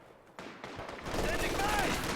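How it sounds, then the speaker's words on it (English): Gunfire from a Stuka dive bomber strafing enemy troops in a World War II strategy game, sounding as a dense, continuous rattle of shots and blasts that swells and stays loud, with a brief whistle-like tone over the barrage. "Stuka ready to strafe enemy troops."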